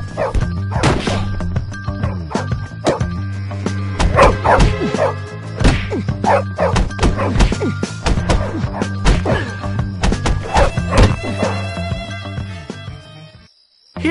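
Chester the dog barks repeatedly in the video game Bully, sharp close barks and yips mixed with thwacks and crashes over a steady musical background.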